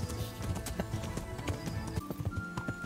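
Hooves of a horse clip-clop at a steady walking rhythm along a road in a medieval video game, close and distinct, with faint ambient tones underneath.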